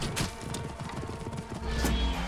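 Horse galloping in the video game Assassin's Creed Origins, a steady rhythmic clip-clop of hooves close up under continuous game ambience and wind.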